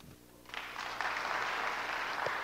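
Applause from an audience at a church gathering, a soft patter that starts after a quiet moment and swells into steady, fairly distant clapping that holds to the end.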